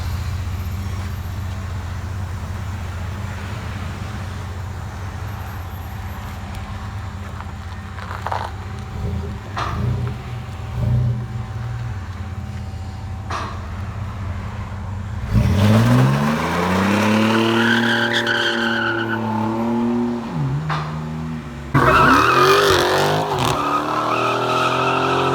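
A 1998 GMC Sonoma truck with a 4.3L V6 and Flowmaster Super 10 exhaust idles with a low rumble, then revs hard in two loud bursts that rise and fall close by.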